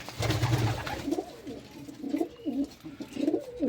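Pigeons coo in low, rolling bursts inside a pigeon loft with nest boxes, several calls in a row, fairly close, with some rustling and background noise.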